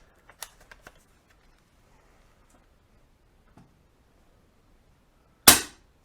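An airgun fitted with a 3D printed moderator fires one sharp, loud report near the end, after a few faint clicks and a quiet stretch.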